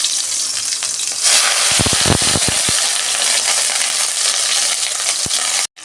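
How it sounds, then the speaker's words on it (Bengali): Katla fish drops into hot oil in a wok over a low gas flame, setting off a loud, steady sizzle with a burst of crackling pops, then a brief clatter at the end. "কড়াতে বসিয়েছি, তেল গরম হয়ে গেছে। আমি এবার মাছটা দিয়ে দিচ্ছি।"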